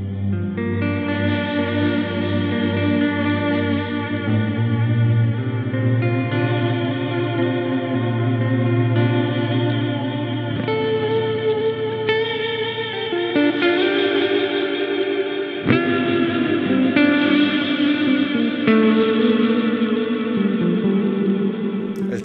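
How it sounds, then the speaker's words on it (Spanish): An electric guitar runs through an EarthQuaker Devices Transmisser modulated reverb pedal, playing sustained chords that swell and shimmer with a wash of warbling reverb. The notes blur together continuously and loudly, with no voices. "Transmiser es un pedal de reverb con modulación."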